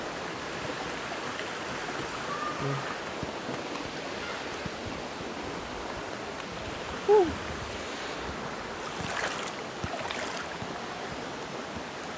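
River water runs steadily near rice fields in a continuous, even wash of flow, with some wind noise and a single brief chirp partway through, and no voices.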